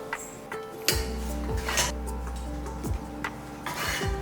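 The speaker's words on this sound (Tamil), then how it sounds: "இப்போ இதை எடுத்து ஒரு மிக்ஸி ஜாருக்கு மாற்றிக்கலாம்." Sautéed masala scraped from a pan into a mixer jar for egg gravy: a few close metallic scrapes and rubs of a spoon against cookware over a faint sizzling background.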